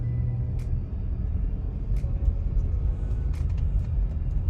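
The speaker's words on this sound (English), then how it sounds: "Hear that pulley whine in the background too?" A Land Rover LR3 on the move, its low engine and road rumble steady throughout, with a faint thin whine from a worn pulley running beneath and a few brief sharp ticks and clicks.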